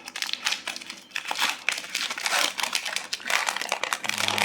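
Crinkling and crumpling of plastic wrap and cardboard as a Pokémon Charizard ex premium collection box is opened, a busy run of close, rustling crackles with no talk over it.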